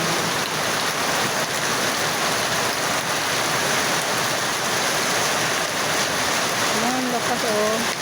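A sudden rain shower pours down outdoors as a dense, steady hiss of falling water, loud and unbroken. Faint bird calls come in near the end.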